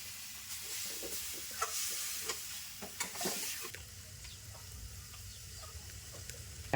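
Katla fish with radish, chili powder and salt is stir-fried in a pan, with a close, steady sizzle broken by repeated scraping stirs and spatula clicks, settling to a softer frying hiss toward the end.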